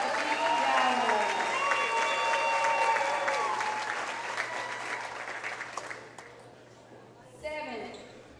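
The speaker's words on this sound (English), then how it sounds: "please give a round of applause for senior Lady Ram basketball player number 15, Jody Jowers." Audience applause in a gym at a high school girls' basketball senior night, a steady wash of clapping and crowd noise that gradually thins out, with an announcer's voice over it near the end.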